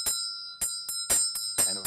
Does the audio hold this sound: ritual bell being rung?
yes